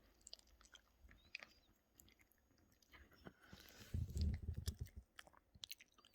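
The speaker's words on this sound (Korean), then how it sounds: "아이고 천천히 먹어." A poodle chews and bites a snack close by, with soft wet crunching that builds into a louder burst of chewing in the second half, while a person talks gently in the background.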